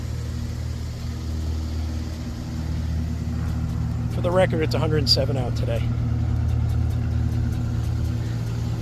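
A 1965 Dodge Dart GT with a factory four-speed and dual Holley carbs hums steadily from inside the cabin on a test drive in Arizona heat, a low constant drone under someone talking.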